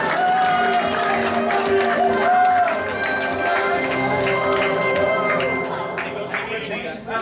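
A convention crowd claps and cheers steadily for several seconds after a game-show segment, a dense wash of applause that tapers off slightly toward the end.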